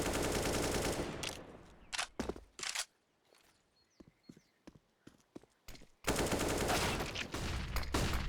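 Rapid bursts of gunfire in a Perfect World Asia League match, loud sustained firing at the start and end with scattered single shots and footsteps between, no talk.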